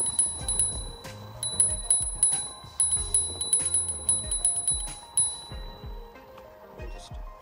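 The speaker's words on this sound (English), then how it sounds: "Got a little bell." Small bell on an AOVO PRO M365 electric scooter, struck repeatedly in quick bright dings over a low rumble of riding, with talking mixed in.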